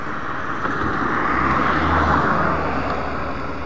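A car cruises along the M-3 motorway near Khichian and Chak Jhumra, giving a steady broadband road and tyre roar with a low engine hum that swells slightly midway, continuous and without talk.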